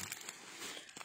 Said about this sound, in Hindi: मैं ये पूरा आपको ना पैक खोल के दिखा रही हूँ